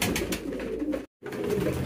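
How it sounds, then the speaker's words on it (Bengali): Pigeons coo softly and continuously as they gather at a feeding spot, with a brief silent gap midway. "দেখেন কবুতরগুলো সব আস্তে আস্তে চলে আসতেছে খাবারের স্থানে"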